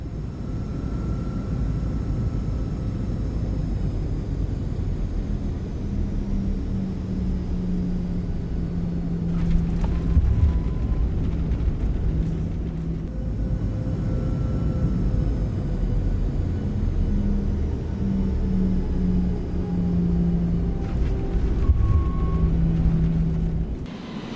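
PMDG 737 rolling out after touchdown in a flight simulator, with reverse thrust and braking producing a steady loud engine roar and rumble, two swells of noise along the way, and no talk.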